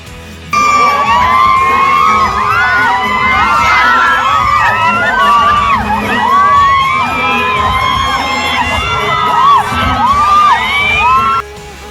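An audience at a mall concert screams and cheers loudly and continuously, with many high-pitched shrieks and whoops overlapping for about eleven seconds before cutting off abruptly.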